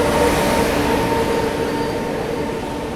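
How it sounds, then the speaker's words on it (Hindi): The Deekshabhoomi Express arrives and overtakes, heard from a train standing at an unofficial halt, its carriages rolling past in a loud, continuous roar with faint wheel squeal, fading slightly over three seconds. "तो ये आ गई दीक्षा भूमि एक्सप्रेस।"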